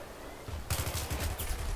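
Gunfire breaks out in an online Battlefield match: after a quiet moment, a sudden stretch of rapid, repeated shots rattles on, fairly soft overall, with no voices.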